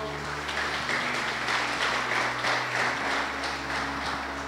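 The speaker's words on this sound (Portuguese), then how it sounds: "aplauda ao Senhor" A church congregation applauds in sustained, dense clapping that stays level for several seconds, with a low hum and murmur beneath it.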